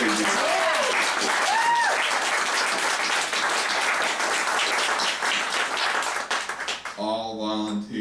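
Audience clapping steadily at a public forum, a dense sustained applause from a crowd that fades out near the end as a voice begins speaking.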